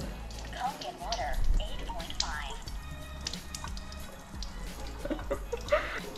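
Water runs and drips from a Kangen water ionizer machine, with splashing and trickling into a container, and a voice talks over it throughout.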